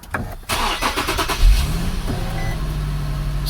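An Infiniti G37 with a newly installed cold air intake cranks and fires up, the starter whir giving way to a steady, close idle hum that settles after the initial flare.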